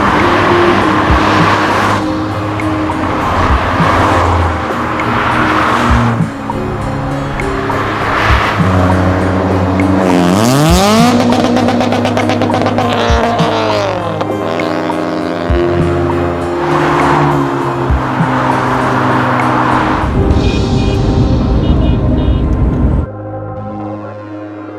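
A convoy of cars in a Drive Against Suicide charity run in Limerick roars past close by, one after another, with loud engine revs, Doppler sweeps and occasional tire squeal, continuous and with no talk.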